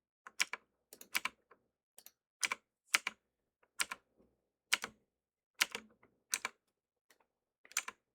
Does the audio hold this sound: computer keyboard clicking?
yes